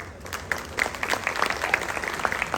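Audience applause at a housing-society balloting event, a steady wash of clapping from a crowd that carries evenly through the whole moment, with scattered sharper claps rising above it.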